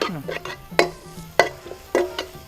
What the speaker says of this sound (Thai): แล้วก็ตามด้วยกระเทียมแล้วก็พริกนะคะ ตึ้งลงไปเลยค่ะ แล้วก็พัดค่ะ